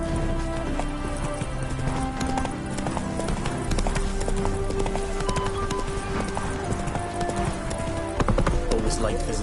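Roach, Geralt's horse in The Witcher video game, trots with a steady rhythmic clip-clop of hooves, close and continuous, alongside game music and brief voices.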